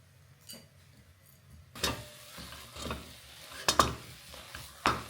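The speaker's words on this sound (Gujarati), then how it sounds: "ધીરે ધીરે મિક્સ કરીએ એટલે મસાલો બધો મિક્સ થઈ જાય." Potatoes with spices being stirred in a frying pan, a soft steady sizzle under repeated scraping and clinking strokes of a spoon against the pan, close and fairly quiet.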